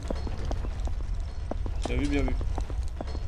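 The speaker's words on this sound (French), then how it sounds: "Est-ce que ça va mieux les bruits de pas ou pas?" Footsteps in the Backrooms video game fall in a quick, regular series of distinct taps that continue throughout, while someone speaks over them briefly.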